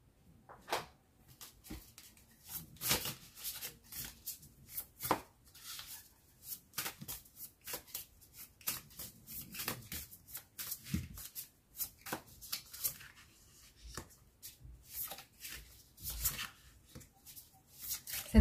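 Tarot cards being shuffled for a reading, a long run of soft, fairly quiet riffles and slaps in irregular bursts, with occasional handling noises and no talking.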